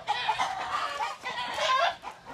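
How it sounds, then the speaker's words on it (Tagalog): Chickens cluck noisily and continuously at close range, a busy overlapping chorus of short calls with no talking. "dito tayo kasi napakaingay pa ng manok."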